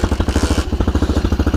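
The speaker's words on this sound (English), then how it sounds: "That's the sound of all like the gears in this kick lever grinding with the other ones inside." Dirt bike engine idling in a fast, even pulse while the kick lever is pushed down, its internal gears grinding and clattering against each other, loud and close.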